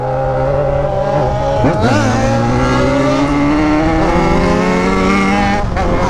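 A Yamaha XJ6 motorcycle engine revs loudly and close by, pitch climbing and dropping through a few throttle blips with a sharp rise near the middle, steady and alone.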